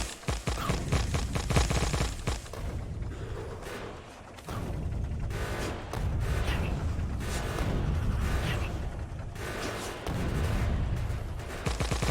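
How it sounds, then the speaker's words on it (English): A plasma cannon fires in the game Factorio, dense rapid bursts of booming, crackling blasts layered into a loud continuous barrage with brief dips. "or I can just let the plasma cannon do all the work"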